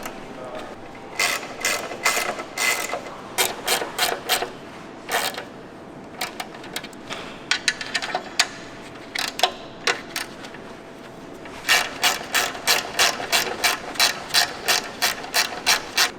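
A ratchet wrench screws a part into a Voima electric motorcycle build, making rapid clicking bursts in several separate runs with short pauses between them. No one speaks over the clicking.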